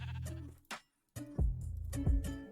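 Minecraft sheep bleat several times, short wavering baa calls, a couple close together after a brief silence, fairly quiet.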